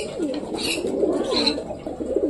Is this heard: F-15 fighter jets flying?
no